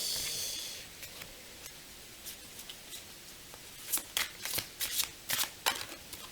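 Oracle cards being shuffled and drawn, starting with a soft riffle, then scattered light taps and slides that build into a quicker run of crisp card flicks near the end, close and quiet with no talking.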